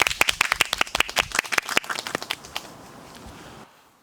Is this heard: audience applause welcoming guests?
yes